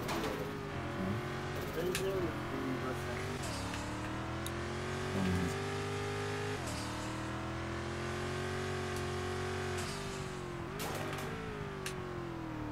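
A Monroe car racing in Need for Speed with a close, loud engine whose pitch climbs steadily and then drops at each gear change, several shifts in a row, with a few faint higher chirps over the top.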